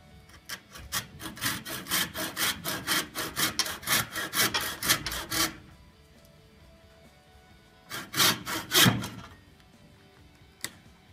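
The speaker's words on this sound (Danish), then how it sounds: "Og så saver vi bare." Rhythmic back-and-forth strokes of a hand saw cutting a small clamped wooden block, a long steady run, a pause, then a short second burst of strokes.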